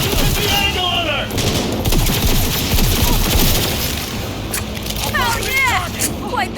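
Sustained automatic gunfire in a Cyberpunk 2077 firefight, rapid loud bursts rattling continuously with metallic clatter, under tense shouted voices and radio chatter.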